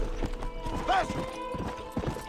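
Horse hooves clip-clopping in the Red Dead Redemption video game, a steady rhythmic clatter of several hoofbeats with a brief whinny partway through, close and fairly loud.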